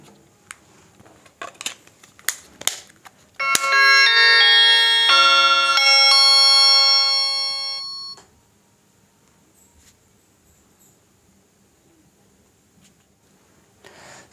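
A Lava A1 Josh keypad mobile powers on, playing a bright chiming startup melody of about four seconds after a few sharp clicks from handling, then fading back to quiet rustling.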